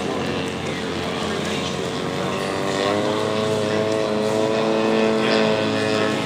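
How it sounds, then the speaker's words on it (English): A radio-controlled model Stearman biplane with a big radial engine drones steadily at an RC airshow, its engine note rising in pitch and growing louder as it nears. "Look at that big radial engine."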